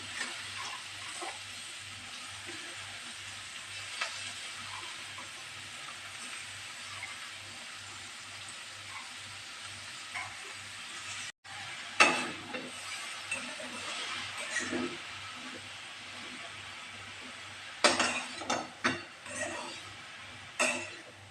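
Onion, tomato and vegetables frying in oil in a home kitchen, giving a faint, steady sizzle with occasional clinks and stirring sounds.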